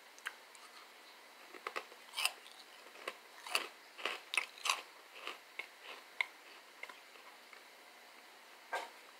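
Crisp, close bites and chewing of Slim Jim Fire Fries, a spicy pork-rind-style snack, in sharp crunches at irregular intervals over a quiet background, with no talking.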